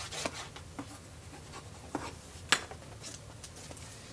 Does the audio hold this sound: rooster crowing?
no